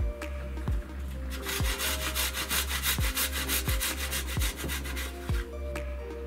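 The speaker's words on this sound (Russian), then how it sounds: "Чеснок натираем на мелкой терке." Garlic is rubbed across a fine kitchen grater in quick, rhythmic rasping strokes, about a dozen close, crisp scrapes with no talking.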